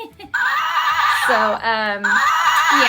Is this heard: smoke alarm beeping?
no